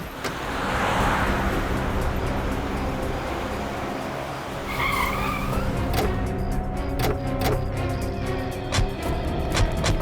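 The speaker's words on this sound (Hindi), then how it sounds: "एक मिनट सचिन, जरा गाड़ी रोको, जरा पीछे लो।" A car on a road slows to a stop and then reverses, with a steady engine and road rumble throughout, a brief squeal partway through and some clicking and knocking near the end.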